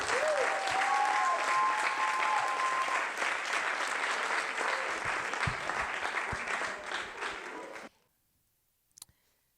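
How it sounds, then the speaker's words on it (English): Loud, dense clapping from a symposium audience fills the room for about eight seconds, then cuts off abruptly into near silence with one brief faint tap. "You are clapping right now."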